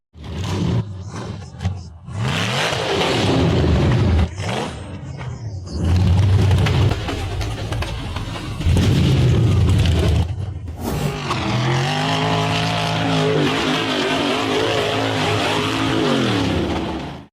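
Off-road buggies accelerating hard up a steep dirt hill at a 4x4 hill climb: engines roar and rev in repeated surges, loud and close, with rising and falling pitch as throttles open and cut, ending in a sustained high-revving climb.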